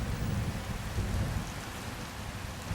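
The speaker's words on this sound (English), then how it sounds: "The rain has come and gives life to the dry, hard soil." Steady rain falls on dry, hard soil in a rural area, a continuous soft hiss of drops with a low rumbling undertone, no voices.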